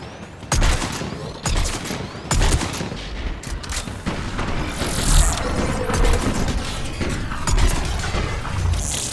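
Sustained bursts of automatic gunfire providing cover fire in the video game Mass Effect 3, dense and loud, with overlapping shots and booms running continuously under battle noise.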